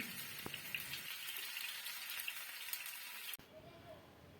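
Marinated chilli chicken fries in a pan with a dense, crackling sizzle that cuts off abruptly near the end, leaving a faint hiss.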